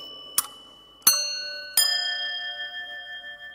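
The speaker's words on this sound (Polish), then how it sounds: "To są takie dzwoneczki, których się używa na początku mszy świętej." Small church sanctus bells rung at the start of Mass in a church in Lublin: three bright, separate strikes about a second apart, each ringing on with a clear, sustained metallic tone that overlaps and slowly fades. No talking.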